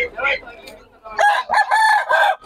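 A large seven-month-old stag, a young rooster, crows at a Bocaue market. Several loud, close crowing calls come one after another.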